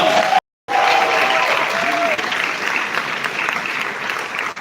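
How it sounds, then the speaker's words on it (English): An audience at a live summit event in Dubai breaks into loud, sustained clapping and cheering. A brief silent gap falls near the start, and a tone rings faintly beneath the crowd. "Give them a round of applause."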